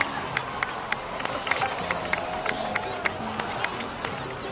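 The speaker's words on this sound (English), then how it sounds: "please give another round of applause for them" A crowd in the video game Genshin Impact claps and cheers with sharp, rhythmic claps over a steady din of voices, somewhat distant and even in level.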